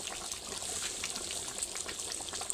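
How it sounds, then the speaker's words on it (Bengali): Water poured into a pot of meat curry on high heat, a steady gushing, splashing flow that holds at an even, fairly close level throughout with no talk. "এবার জল দিয়ে দিই।"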